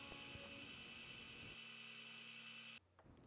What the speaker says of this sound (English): I swap my drill chuck for a 3/8 inch end mill and just do a quick skim pass to remove the burr